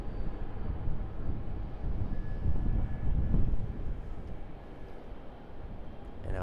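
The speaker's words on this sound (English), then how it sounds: "And our Boeing 717 arrival there just came in on 34 left as well." Boeing 717 landing on runway 34 left at Sydney Airport, a broad steady engine roar that swells toward the middle and then eases off, heard from a distance over wind.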